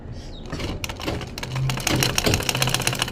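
A sewing machine stitches side piping onto a kameez, its needle running in a fast, even, rattling burst after a short start, close and steady.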